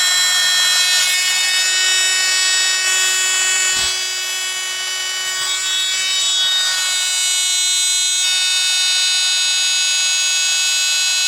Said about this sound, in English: Well, I put a motor load on. I put it on high. It's a Dremel.